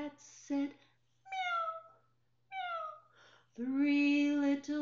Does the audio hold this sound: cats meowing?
yes